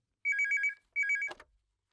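A telephone rings twice, two bursts of rapid electronic trilling separated by a short gap, ending with a brief clatter as it is picked up.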